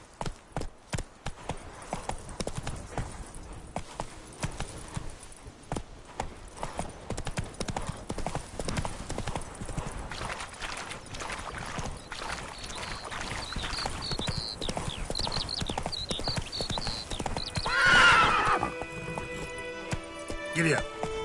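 A horse gallops steadily in The Witcher 3, its hooves giving a fast, continuous clip-clop close by. Light game ambience runs underneath, a whinny-like tone rises near the end, and a voice speaks briefly over the hooves.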